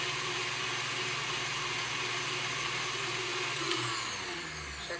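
Electric whisk beating lime cheesecake mix, a loud, steady whirring drone held throughout that shifts slightly in pitch and tapers off as the whisk slows near the end.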